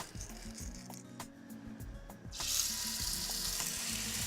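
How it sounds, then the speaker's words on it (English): Background kitchen murmur suddenly gives way to a loud, steady sizzle of salted meat searing in vegetable oil in a very hot pan, continuing to the end. "Nice sizzle."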